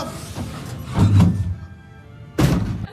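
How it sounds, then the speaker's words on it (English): A door is banged in a film scene: heavy thuds come in a cluster and then one more hit after a pause, each dull and close, with faint room noise between them. "We're going to hear the door bang."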